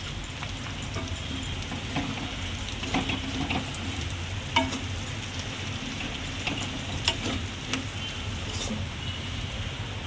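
Vegetables with raisins and cashews fry in a pan as a soft continuous sizzle, broken by scattered crackles and stirring scrapes, faint and close, with no voices.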